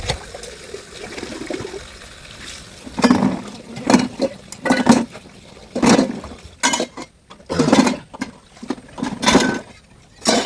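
Water from a household tap runs in short, repeated bursts that splash and trickle nearby, with faint clinks of dishes between the flows.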